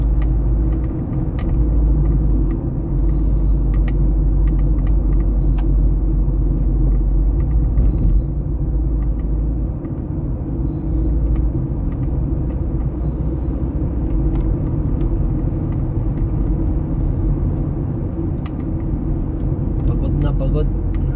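Interior of a car driving slowly in heavy traffic near Dubai Mall, with a loud, steady low road and engine rumble throughout and faint clicks, while people talk over it.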